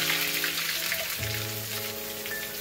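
Spice masala sizzling and crackling in hot oil in a kadai for a village-style chicken rassa, a steady close broadband frying hiss throughout, with no talk over it.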